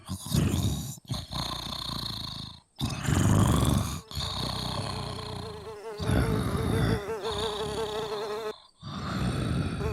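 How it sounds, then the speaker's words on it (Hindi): Buzzing of mosquitoes at night, a loud, close, whining insect drone that swells and fades in repeated bursts across the whole stretch, with brief gaps between them. "रात को मच्छर बहुत होते हैं, बड़ा परेशान करते हैं उसे, और वो जग जाता है।"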